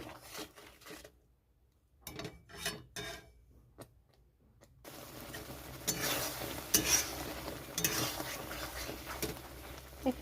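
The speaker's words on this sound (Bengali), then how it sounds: "মশলা সব দেওয়া হয়ে গেছে তো এখন এটা ভালো করে কষাবো" Spices for a prawn malai curry with giant freshwater prawns, including turmeric and Kashmiri chili powder, are stirred and sautéed in a pan, with sparse spoon scrapes at first and then a steady, louder sizzle with scraping.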